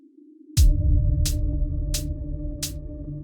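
Electronic beat in which a reverb-drenched kick and a regular kick thump four times at an even pace, a bright hi-hat hit landing with each, over a sustained low synth tone, with no voices.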